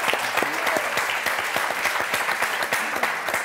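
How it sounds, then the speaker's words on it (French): A French television game-show studio audience claps for a couple of seconds, a dense, close, even patter of many hands with crisp individual claps standing out. "On vous applaudit très fort, merci."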